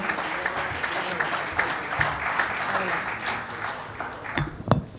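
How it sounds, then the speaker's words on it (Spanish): Conference audience applauding a guest economist, a steady wash of clapping from a seated crowd lasting several seconds and thinning near the end, with some voice mixed in. "Un fuerte aplauso."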